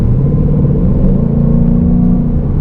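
A 2018 Mustang GT in manual mode, held in 10th gear, accelerates with a steady, loud engine rumble whose tone climbs gradually, close and continuous with no talking.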